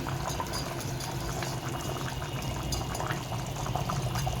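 Lentil kuzhambu (chana dal curry) bubbling in a pot, a steady, close, dense simmering hiss and fine bubbling that holds continuously without talk.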